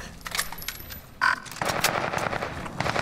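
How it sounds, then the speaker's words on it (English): Gunfire in Call of Duty: Modern Warfare, a rapid scatter of close, sharp shots and bursts over game ambience with a brief beeping tone, with no talking. "Someone's popping shots"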